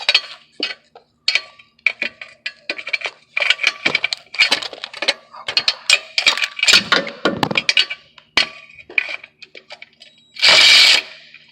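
A deep 10mm socket on a power tool works bolts loose on a Chevy Cruze turbo, with a rapid series of sharp clicks, rattles and ratcheting bursts close up, ending in a brief steady whir.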